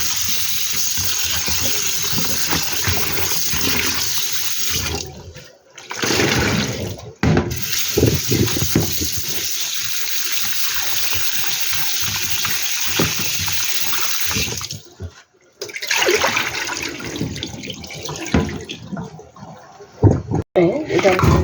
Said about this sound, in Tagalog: Hugasan lang po muna natin.